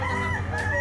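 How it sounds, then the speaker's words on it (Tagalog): A rooster crows in a short burst, loud and close, with a sustained strained call carrying over a low steady hum. "Manok?"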